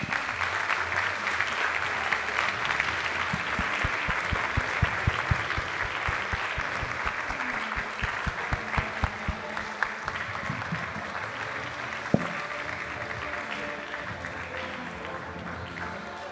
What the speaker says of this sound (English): please, a round of applause for our men's medalists